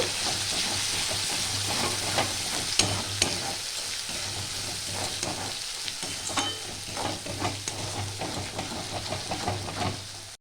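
Spice paste for a chicken curry sizzles and fries in a pan with a constant hiss, while intermittent stirring scrapes and clicks rise above it nearby.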